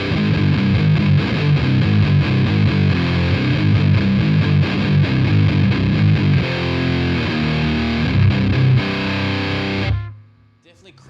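A Biyang DS12 distortion pedal with its filter pushed gives a loud, saturated guitar tone with a crackly, fizzy edge, played as continuous chords that ring out and then cut off abruptly near the end.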